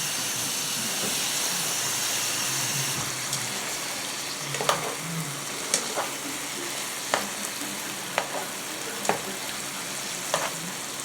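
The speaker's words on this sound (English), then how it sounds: "And you just want to cook that salmon till it's nice and flaky." Teriyaki salmon fries in a pan with a steady hiss and sizzle, while sharp clicks of tongs or a utensil tap now and then in the second half.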